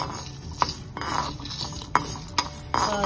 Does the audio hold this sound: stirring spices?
yes